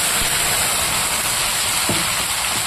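Ginger, onion and garlic paste hits hot oil in a pan, producing a loud, dense, steady sizzle heard up close throughout.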